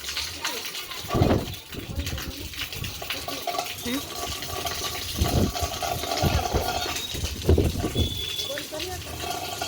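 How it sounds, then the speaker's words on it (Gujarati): Water runs from a household water tank in a steady, rushing stream, with faint voices and brief louder bursts of activity over it. "પાણી ટાંક ચાલુ કરી દીધી, બંધ કરી ફટાફટ"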